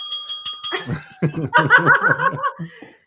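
A small bell rings several times in quick succession, bright and close, then gives way to laughter and chatter.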